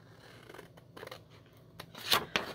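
Scissors snip through paper while a coffee-cup shape is cut out for a craft scrapbook spread, giving a few quiet close cuts with the sharpest snips near the end and no talk.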